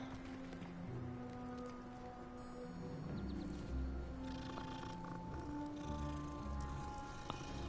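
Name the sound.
cat purring in the video game Hogwarts Legacy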